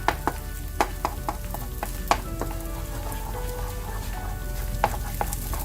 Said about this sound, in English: Start scrambling the egg. And mash up the tomato as you do so.